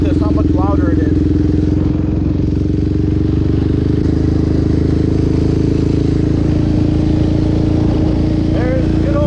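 A Yamaha Raptor 700R ATV fitted with a loud aftermarket exhaust idles close by in a constant, heavy burbling drone that never lets up, with faint chirping sounds near the start and end.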